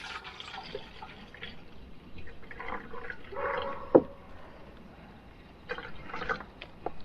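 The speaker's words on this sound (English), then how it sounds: "I'm just going to pour some in this nice little kettle." Water runs and splashes steadily into a small kettle for several seconds, with a light clunk midway and faint background noise.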